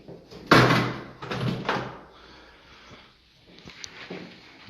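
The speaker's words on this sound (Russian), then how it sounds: "Дверь они предусмотрительно закрыли." A door swings shut with a sharp, loud thud, then a second closing bang follows in an indoor room, with quieter shuffling and small knocks trailing after.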